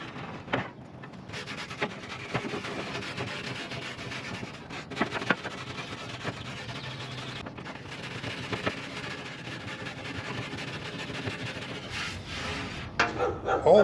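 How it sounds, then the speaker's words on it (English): A steel brush scrubs the grill grates of a smoker grill in steady, close rasping strokes with occasional knocks against the metal, no talking. "just kind of clean everything up with a nice steel brush"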